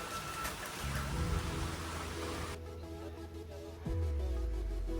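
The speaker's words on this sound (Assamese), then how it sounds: "তেতিয়াৰ পৰা বৰষুণ মাৰি আছে একদম" Heavy rain pours steadily outdoors as a dense, even hiss, with a low rumble underneath that deepens toward the end.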